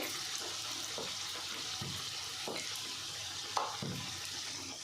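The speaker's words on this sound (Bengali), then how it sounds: "তেলের মধ্যে দিয়ে একটুখানি ভালো করে এরমভাবে চাপতে হয় চাপতে চাপতে চাপতে ঘোরাতে হবে" Pea kachori frying in hot oil while being pressed and turned, a continuous faint sizzle with soft rhythmic clicks and scrapes of the spatula and one slightly louder tap, close, no speech.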